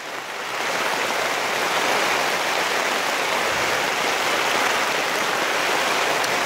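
Steady rain falls outdoors, a loud, dense hiss that swells in within the first second and then holds evenly, with no voices.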